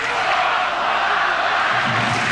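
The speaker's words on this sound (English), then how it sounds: "And the crowd getting into it." Stadium crowd at a 1995 World League American football game between the Scottish Claymores and Barcelona Dragons in Barcelona, a dense, steady roar of cheering voices filling the whole stretch, loud and continuous with no pause.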